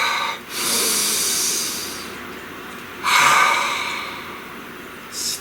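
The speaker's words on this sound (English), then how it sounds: "Please take a nice deep breath." Deep breaths during a guided breathing exercise: a long breathy inhale followed by a slow exhale, then another strong breath, close and loud, with no speech.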